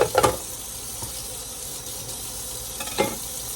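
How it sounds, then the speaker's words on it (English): Squash leaves frying in a pan on a home stove, giving a steady low sizzle throughout, with a few short knocks and clatters from nearby dishwashing and plate handling and no talking. "Okay, so now the squash leaves are cooking. They're frying"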